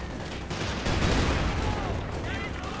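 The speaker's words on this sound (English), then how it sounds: "Now we have a very elite mortar team from Kobal." Mortar team fire in the World War II strategy game Company of Heroes 2, a dense wash of distant battle gunfire and thumps under a constant bed of noise, with a surge of explosions around the middle.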